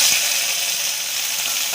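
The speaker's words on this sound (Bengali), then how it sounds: "এবার আমি আমটা ভেজে দেব।" Okra frying in a pan for a Bengali okra dish, a steady, close hiss of sizzling oil running evenly throughout, with faint stirring clicks and no voices.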